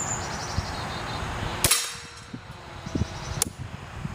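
Two sharp, separate gunshots from a Tactical Honey gun test-fired with CCI standard velocity ammunition, each a loud close crack with a metallic ring. A quieter clack follows between the shots, with no talking.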